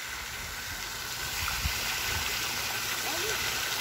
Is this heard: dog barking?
no